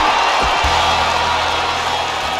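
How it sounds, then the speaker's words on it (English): Crowd chanting and cheering from a WWE 2K19 video game steel cage match, a broad, steady roar of an arena audience filling the whole stretch with a few short thumps near the start. "Look at the crowd here chanting for Daniel Bryan."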